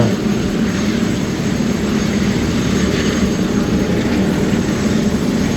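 A helicopter's engine roars loudly and continuously up close, a dense, unbroken droning rumble.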